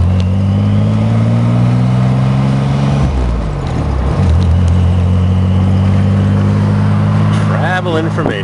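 A car engine drives around town in first gear, a steady mid-range engine hum with a brief gear-change dip midway, close and continuous throughout.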